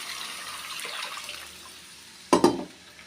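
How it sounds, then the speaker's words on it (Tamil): Water is poured from a tumbler into a pan of raw rice for upma, a close gushing splash that fades to a low trickle before two short sloshes near the end. "அதனால் ஒரு 4 டம்ளர் அளவு தண்ணி சேர்த்துக்கிறேன்."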